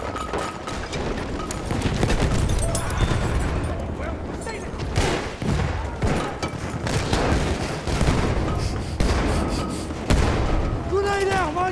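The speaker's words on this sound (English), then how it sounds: "Throwing a grenade!" Grenade blasts and heavy rifle and machine-gun fire fill a Battlefield 1 multiplayer battle on the Amiens map, with dense overlapping shots and booming explosions while soldiers' voices shout over the din.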